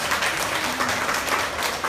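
An audience at a railway museum's opening day applauding a young volunteer, a soft, continuous patter of many hands clapping, moderately distant and steady for a couple of seconds.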